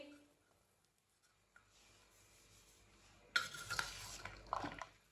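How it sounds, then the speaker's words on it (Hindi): Lobia chaat ingredients with chaat masala being stirred together in a bowl, faint at first, then louder close scraping and clinking of a spoon for the last couple of seconds. "सब चीजों को अच्छी तरह मिक्स कर लेंगे।"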